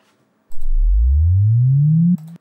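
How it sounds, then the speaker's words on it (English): A pure sine wave tone sweeps steadily upward in pitch from 0 toward 220 Hz, very low to a mid hum, for about two seconds, then drops slightly and cuts off. "we're going to hear the sweep of that sine wave go from 0 all the way to 220 and back"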